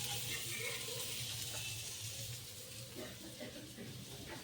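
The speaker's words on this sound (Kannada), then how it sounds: "ನೋಡಿ ಫಿಶ್ ಫ್ರೈ ಹೆಂಗೆ ಮಾಡತ್ತೀನಿ ನಾ" Fish fries in a pan with a loud, continuous hissing sizzle that softens a little midway and stays close and steady throughout.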